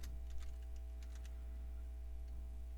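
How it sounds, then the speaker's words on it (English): Quiet, irregular clicks of typing on a computer keyboard, scattered taps over a low steady hum, with no speech. "so I'm gonna type in my name."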